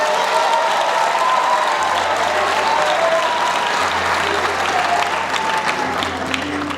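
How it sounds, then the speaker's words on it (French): Sustained applause from a graduation ceremony audience at a community higher-education school, steady dense clapping filling the whole stretch at a constant loud level, with a low hum underneath. "essayez d'applaudir pour vous-même."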